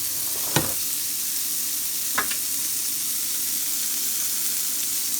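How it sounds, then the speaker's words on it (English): Red potatoes with spices and vegetables stirred in a pan on raised heat, a steady frying hiss throughout with two distinct scraping clinks of the utensil against the pan, no voices. "give this a really good mix with the spices and the veggies"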